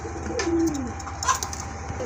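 A jade pigeon with a spring-shaped crest gives a short, close coo with a gliding low note, followed by a few faint chirps in a quiet loft.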